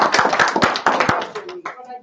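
A church congregation claps together at an annual meeting, steady overlapping applause filling the room with dense hand claps that taper off near the end, voices mixed in.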